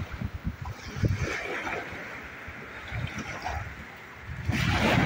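Ocean waves wash onto a beach in Canada, a continuous soft rushing and gurgling surge with low rumbles, swelling louder near the end as a wave breaks closer.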